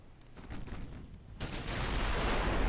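Naval gunfire in the warship game Ultimate Admiral: Dreadnoughts, a few muffled distant booms followed by a rising, sustained rumble of heavier fire, moderately loud with no voices.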